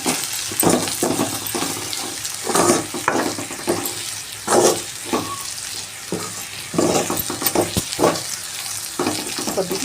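Okra fry sizzles in a pan as a spoon stirs it in repeated scraping strokes, close and steady, with the hiss of frying underneath.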